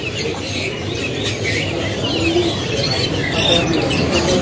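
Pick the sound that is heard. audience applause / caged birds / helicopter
caged birds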